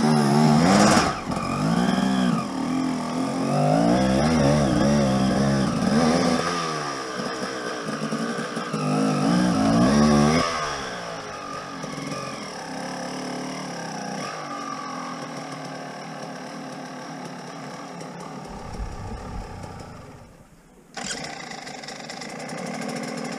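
An enduro motorcycle engine revs in rising and falling bursts for several seconds, then settles into a steady idle, heard close and fairly loud with a brief dip near the end.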